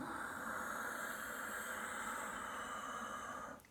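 A steady, soft breathy exhale with a faint whistling hiss, held evenly for several seconds before trailing off at the end.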